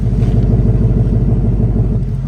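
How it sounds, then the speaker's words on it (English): Steady low idle of a stock 10-speed 5.0 engine, a smooth even rumble that stays constant and fairly close, with no voices over it. "It's insane how quiet this car is."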